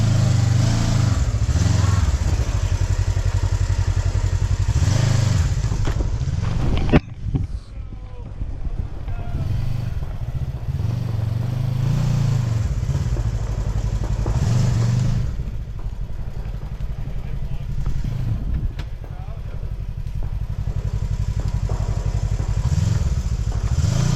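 Several side-by-side off-road vehicles, including a KRX, Talon and X3, drive a rough trail, with loud continuous engine drone and revving that dips briefly mid-run before building again, no talk.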